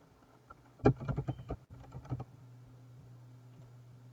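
A password being typed on a computer keyboard: a quick run of close, soft key clicks and taps lasting about a second and a half, followed by quieter room hum.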